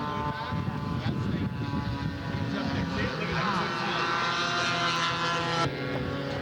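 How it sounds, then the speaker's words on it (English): A scale model F6F Hellcat warbird in flight at a scale aircraft show, its engine droning steadily and loudly with a shifting pitch as it passes, while an announcer talks over it. "F6F Hellcat."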